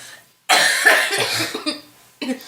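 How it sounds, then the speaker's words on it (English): Several harsh, loud coughs burst out close to the mic, followed by a brief pause and another short cough. "My abs are actually sore from coughing."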